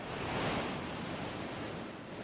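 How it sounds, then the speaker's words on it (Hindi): Stormy sea waves surge in a continuous, dense roar of surf and wind, fairly faint and steady without distinct breaks or voices. "समंदर के बीचों बीच एक बड़ा तूफान आ गया।"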